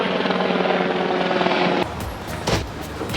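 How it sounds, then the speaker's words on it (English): A helicopter flies close overhead in a Capitol Hill neighborhood, its steady rotor drone loud and continuous for almost two seconds before cutting to quieter outdoor noise with a few brief knocks. "Helicopter behind me."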